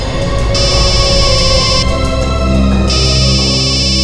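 A telephone rings loudly with a repeating electronic ringtone pattern during a tense detective scene in an Indian crime drama, as a call comes in from the RTO. The ringing comes in two bursts over a steady musical background.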